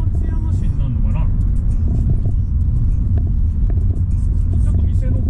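A car drives along a road in Japan at steady cruising pace, with a continuous low engine and road rumble that stays even and fairly loud throughout. Someone talks over the drive.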